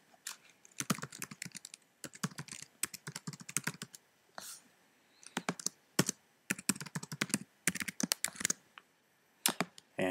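Fingers type on a computer keyboard in bursts of rapid clicking keystrokes separated by short pauses, close and fairly quiet with no talking.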